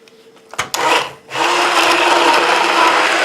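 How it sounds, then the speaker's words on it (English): A blender starts with a couple of sharp clunks, then grinds sage and other ingredients for a butternut squash corn chowder in a loud, steady whir that runs without a break to the end. "we're going to get back in here with the blender and keep grinding"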